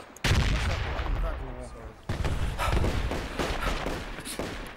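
Heavy enemy gunfire in a multiplayer shooter game, dense bursts of automatic fire and blasts crackling loud and close, broken by a short lull, with a player shouting over it.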